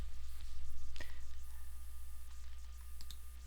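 A single computer mouse click and an F12 key press land as short, soft taps near one second, with a few faint clicks after, over a steady low electrical hum in a quiet room.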